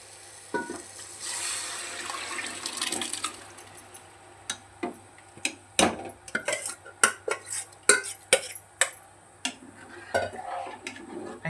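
Misal curry stirred in a metal pan, a bubbling pour of liquid followed by a run of sharp spoon knocks and scrapes against the pan, close and fairly loud, no talk.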